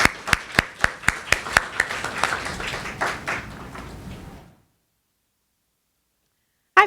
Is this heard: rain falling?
no